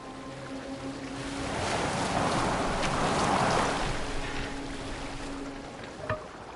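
Boat cutting through water in the video game Assassin's Creed Valhalla, a steady wash of waves and wind that swells in the middle and eases off, with a brief knock near the end.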